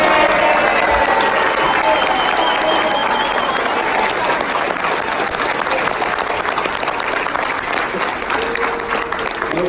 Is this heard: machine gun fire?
no